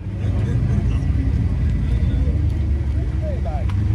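Steady low engine rumble of a Toyota car driving off at a night car meet, loud and continuous, with people talking over it.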